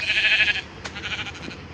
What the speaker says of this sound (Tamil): ஆட்டுக்குட்டி கீழே போ